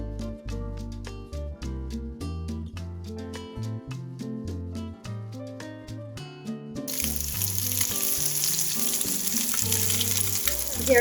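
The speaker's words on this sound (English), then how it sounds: "I am going to shallow fry them in a saucepan with a little bit of olive oil" Tilapia fillets shallow-frying in olive oil in a saucepan give a steady bright sizzle in the second half, following a stretch of background music.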